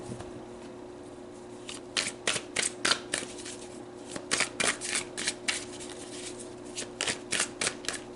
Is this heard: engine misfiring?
no